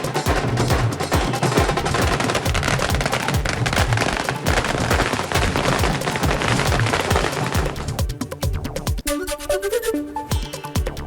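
Fireworks and firecrackers burst at a street celebration in Thane for Eknath Shinde becoming chief minister: a dense, continuous rattle of rapid loud cracks and pops, close by, with a brief denser crackling flurry near the end.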